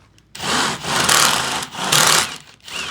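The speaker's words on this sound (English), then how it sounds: "let's go ahead and get this self-tapping going here" A power driver sinks self-tapping screws into solar panel mounting rails in four loud grinding bursts separated by short pauses, close and harsh, with no talking.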